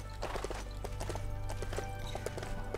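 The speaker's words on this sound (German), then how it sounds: "Steigen nochmal kurz auf das Pferd auf." Horse hooves clip-clopping in the video game Lego Worlds, a quick, regular run of hollow knocks over a low hum, close and steady throughout.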